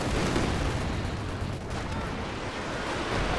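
In Company of Heroes 2, a Panzerwerfer rocket barrage rains down as a dense, continuous roar of overlapping explosions and crackling impacts, loud and sustained throughout.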